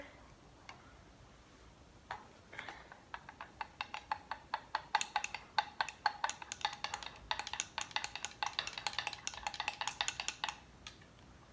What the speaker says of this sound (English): Good old butter knife, give it a nice stir.